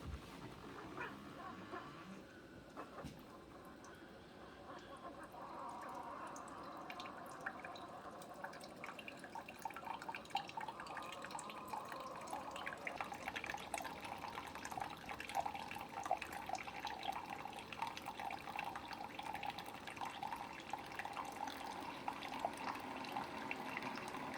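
A Keurig K-Cup coffee maker brews, with water trickling and dripping into a cup over a steady pump hum that grows louder partway through, heard alone without talk.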